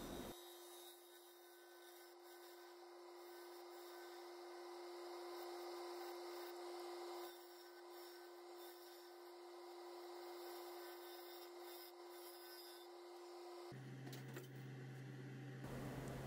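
A resin and maple bowl spins on a wood lathe under light cutting passes, a steady whirring hum with a faint scraping texture that stops and shifts in tone near the end.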